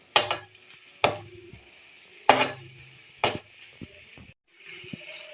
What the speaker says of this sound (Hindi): एक से 2 मिनट तक इसको फ्राई करें।